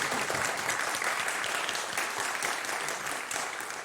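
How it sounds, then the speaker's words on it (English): A Sunday service congregation breaks into warm, sustained applause, many hands clapping in a dense, steady patter that fills the room. The clapping tapers slightly toward the end, and no voices stand out above it. "Yes, we can clap to that."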